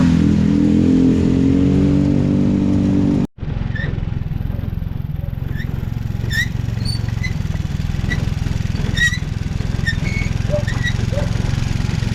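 A motorcycle engine revs loudly and close at first, then after a brief cut, a busy road continues with engine rumble and clatter, and people talk faintly.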